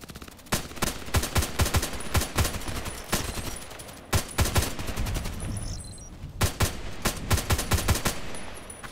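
HK417 rifle in a shooting game, firing repeatedly in loud, sharp cracks in quick clusters and single shots across the whole stretch, each report close and punchy.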